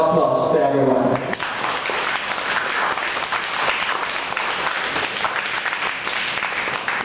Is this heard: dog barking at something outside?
no